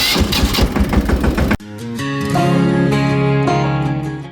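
Small farm tractor engine at a Gujarati groundnut field, a dense rhythmic diesel chugging that cuts abruptly into a steady, loud running drone with a strong low hum, close by and without voices.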